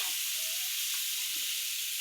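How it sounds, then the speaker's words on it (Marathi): Fish sizzles as it tava-fries on a hot griddle, a steady, even crackling hiss of oil that stays close and fairly quiet throughout with no talking. "ह्याला म्हणते तवा फ्राय."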